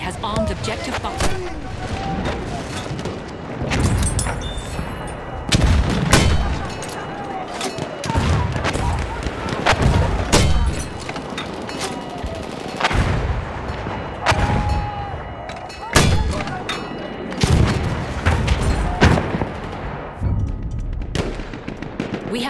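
Booming artillery strikes land at irregular intervals in a Battlefield 1 match, heavy blasts mixed with smaller gunfire pops. Radio-style voices and talk run throughout.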